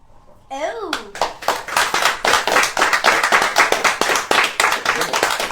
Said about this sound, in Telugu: సో దానికి క్లాప్స్ లేవా?